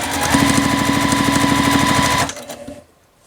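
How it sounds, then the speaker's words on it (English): A sewing machine runs steadily, stitching a quilt block seam with a fast, even mechanical chatter for about two seconds before stopping, leaving only faint room noise. "or you can just go ahead and sew it"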